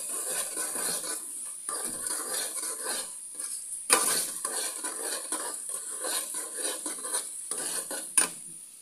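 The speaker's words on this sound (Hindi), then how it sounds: "इसको 2 मिनट के लिए भूनेंगे चावल को" Rice and peas stir-roasted in a pan for matar pulao: a continuous soft sizzle under repeated metal spoon scrapes and clinks against the pan, with two sharper knocks.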